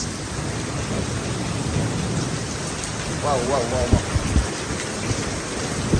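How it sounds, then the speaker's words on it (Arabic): Heavy rain pours steadily in Marrakesh while thunder rumbles and cracks nearby, and a man briefly exclaims in amazement partway through. "لاحظوا معي فيها برق ورعد، برق ورعد قوية جدا"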